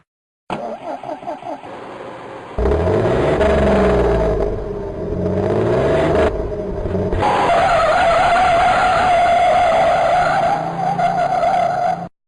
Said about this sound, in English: Why did the bus screech?